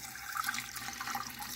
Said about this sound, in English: So I just kind of pour some water in